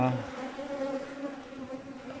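Steady, dense buzzing of many honeybees around a hive, continuous and close, with no talking.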